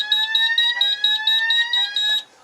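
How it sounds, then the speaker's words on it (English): A fire alarm set off from an alarm panel sounds loud and close: a rapid, steady pulsing electronic tone with high harmonics that stops abruptly near the end. "We can go to straight to evacuate. It sets the alarm off."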